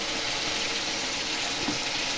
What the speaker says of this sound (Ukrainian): Досмажується картопля.